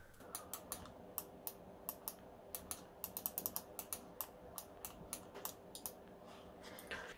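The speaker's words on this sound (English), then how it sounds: "these are really clicky" Sharp, dry clicks from the buttons of a Corsair Harpoon RGB wireless gaming mouse come in quick irregular bursts, some in rapid clusters, close and crisp against a quiet background.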